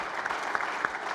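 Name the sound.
audience applause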